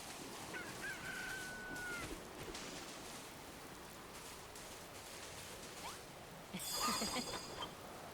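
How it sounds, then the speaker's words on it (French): Chickens clucking in the Dragon Quest Builders 2 video game, a few short calls over steady game ambience with a brief whistle-like tone early and a louder burst of squawks near the end. "Oh, il y a d'autres poules."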